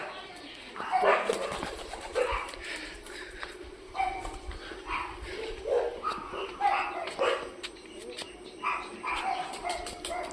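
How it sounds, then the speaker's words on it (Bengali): Stray dogs from another neighbourhood bark outside in scattered, intermittent bursts at a moderate distance, mixed with outdoor background noise and occasional voices. "কুকুর এসছে বাইরে কি অবস্থা অন্য পাড়া থেকে কুকুর এসে টোটালি এদের কামড়ায়"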